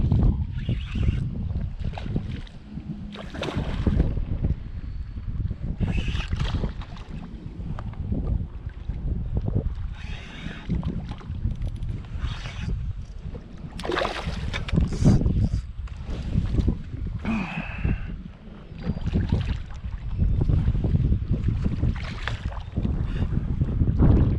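A boat's trolling motor runs at a low speed setting of about 1 to 1.5, pushing into the wind on the flats. The hum is steady and sits under heavy wind buffeting on the microphone, with water noise throughout and no talk.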